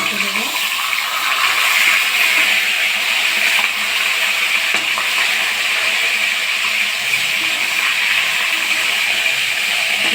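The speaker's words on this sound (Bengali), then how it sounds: "ভালো করে ভাজা করে নেবো মাছগুলো" Pangas fish pieces frying in hot oil in a pan, a steady close-up sizzle with faint bubbling that holds evenly throughout.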